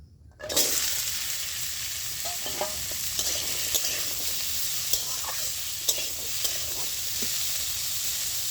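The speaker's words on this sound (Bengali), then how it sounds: "তেলটা গরম হয়ে গেছে, এবার আমি ডুমুরটা দিয়ে দিচ্ছি এর মধ্যে।" Figs fry in hot white oil in a wok, a loud steady sizzle starting abruptly and continuing with scattered crackles and pops.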